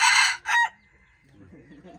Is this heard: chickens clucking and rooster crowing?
yes